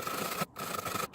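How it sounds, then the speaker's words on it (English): A wire brush scrubs rusty bolts on a Ford Connect van's side door area, giving a steady, harsh scraping rasp in close strokes with two brief pauses. "wire brushing first."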